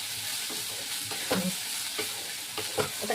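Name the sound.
coconut frying with banana flower and prawns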